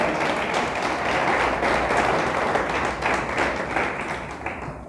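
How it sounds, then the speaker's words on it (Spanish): A church congregation claps loudly for God during a sermon, a thick, sustained roar of many hands with no pauses. "Dele fuerte el aplauso, es para Dios."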